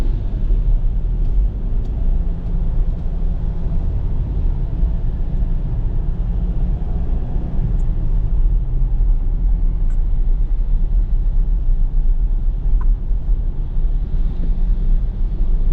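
Road traffic on a drive from Seaside MOA to Intramuros in Manila: a steady, close, low engine rumble and road noise with no break and no voices.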